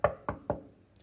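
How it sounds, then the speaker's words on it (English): Three firm knocks on a door, evenly spaced and close, from a student staging of a Macbeth scene, followed by a faint brief tick. "Knock, knock, knock."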